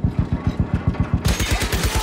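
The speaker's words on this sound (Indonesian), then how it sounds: "Baku tembak kembali terjadi" Sustained automatic gunfire in a World War II battle scene between Allied troops and German soldiers in a village, with rapid, regular bursts that grow denser and brighter halfway through, loud and close, with no talk.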